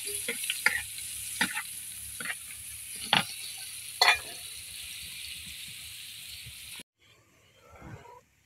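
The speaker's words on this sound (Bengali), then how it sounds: "পেঁয়াজ দিয়ে দিলাম তেলের মধ্যে" Onions sizzle steadily in hot oil in a home kitchen, with a few sharp clanks of a spoon against the pan, before the frying cuts off abruptly near the end.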